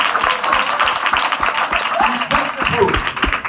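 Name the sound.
audience applause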